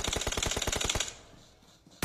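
Automatic gunfire in the battle royale game BGMI, a fast burst of about ten sharp evenly spaced shots, loud and close, then a short quiet tail ending in one more abrupt shot.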